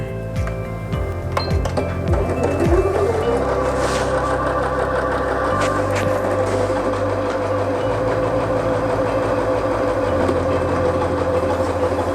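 A Janome DC6050 portable sewing machine stitches with a steady mechanical whir and fast rhythmic clatter that shifts pitch a few times as the speed changes, close and continuous for about twelve seconds, with no talking.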